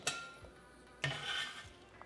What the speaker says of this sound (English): we're going to put them in a large mixing bowl